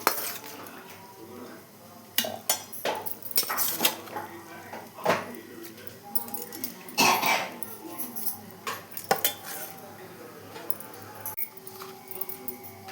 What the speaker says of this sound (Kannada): ಆರಿದೆ. ಇದು ಮಿಕ್ಸಿಗೆ ಹಾಕ್ಕೊಳ್ಳೋಣ.